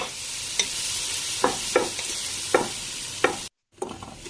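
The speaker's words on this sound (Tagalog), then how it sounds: "Igisa ang kimchi" Chopped kimchi sautéed in a pan with garlic and onion, sizzling steadily while a utensil scrapes and stirs in several distinct strokes, close and fairly loud; a brief silent gap near the end before the sizzle resumes.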